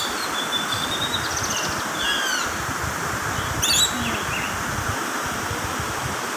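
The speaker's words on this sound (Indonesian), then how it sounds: "Di bawah juga ada burungnya." Birds calling from somewhere below and out of sight in an outdoor setting, a few thin chirps and a brief louder call around the middle over steady rustling leaves and wind.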